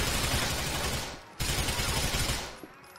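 Rapid Uzi submachine gun fire in GTA IV, two sustained loud bursts separated by a brief gap, with no talk.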